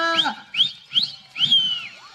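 A bull lows in several short calls at a jallikattu bull-taming event, four distinct moos close together, fairly loud and alone with no talk over them.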